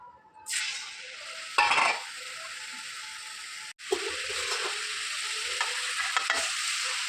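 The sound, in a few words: Manapparai murukku frying in hot oil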